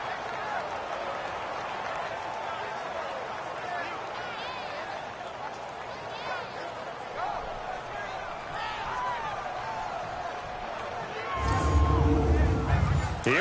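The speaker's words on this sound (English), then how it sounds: "Here comes a big one as this crowd gets up making some noise" Stadium crowd noise swells at a Titans vs Texans NFL football game in Houston, a broad roar of fans under continuous play-by-play commentary, rising louder near the end.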